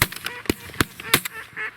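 Wild geese honk overhead while flying over a snowy field during a snowstorm goose hunt, giving a quick series of loud, sharp honks and calls close to the listener.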